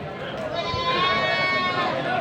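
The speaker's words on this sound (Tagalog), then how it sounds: "Ang daming kambing." Several goats bleat nearby in a wavering, drawn-out chorus, with people talking over them.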